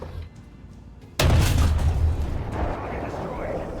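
A tank's main gun fires in a combat video game, a sudden loud boom whose rumble rolls on for a couple of seconds before slowly fading, with a voice speaking alongside it.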